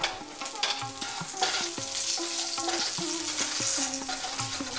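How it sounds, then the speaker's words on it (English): Fried eggplant and potatoes stir and sizzle in hot mustard oil with black cumin seeds and green chilies for a Bengali hilsa fish curry, a steady close frying hiss with spoon scrapes and music playing underneath. "little more mustard oil and then tamper with black cumin seeds and few green chilies. It's already sputtering."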